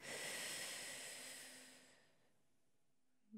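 A single slow, audible inhale during a guided breathing exercise, close and airy, swelling then fading into near silence.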